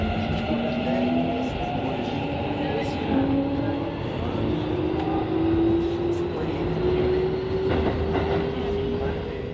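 Train running toward the outskirts of Tokyo, a steady loud rumble of wheels and motor with a slowly rising whine throughout, heard from inside the carriage with faint talk in the background.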